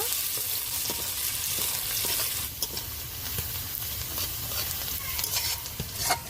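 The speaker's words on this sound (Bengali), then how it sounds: "এবার দিয়ে দেবো পেঁয়াজ একটু হালকা করে ভেজে নেব" Onions fry lightly in a pan with whole cumin, giving a soft, constant sizzle with stirring and scraping that grows a little busier after the first couple of seconds.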